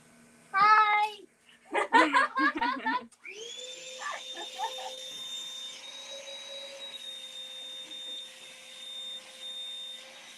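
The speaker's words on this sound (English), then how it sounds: "That was just the vacuum" A vacuum cleaner drones steadily in a veterinary clinic during a spay and neuter day, a sustained whine that starts after a few seconds of nearby voices and a child-like babble and runs to the end.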